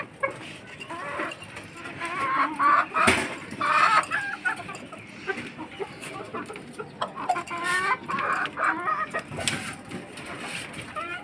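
Chickens kept on a home balcony cluck and squawk in irregular bursts, fairly close, over a soft background murmur.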